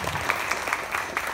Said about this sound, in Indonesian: tepuk tangan buat Asep Lopang